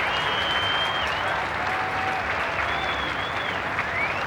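A large crowd at the 1990 Queen's Parade applauds the Queen steadily as she departs, a dense, continuous wash of clapping heard from amid the crowd, with faint whistles on top.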